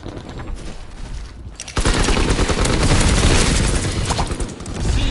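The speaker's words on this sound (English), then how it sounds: "I just put 2 incendiary shells in that guy and I didn't even get the kill" Shotgun loaded with incendiary shells firing in Call of Duty: WWII, a loud sustained volley of blasts and crackling that erupts suddenly after a quieter stretch and keeps pounding to the end.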